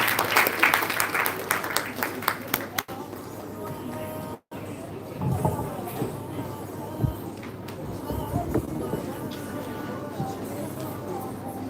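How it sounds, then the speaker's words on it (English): Applause from a youth conference audience after a spoken-word poetry recital, a broad wash of clapping fading under crowd noise and talk. "Let's give her a round of applause"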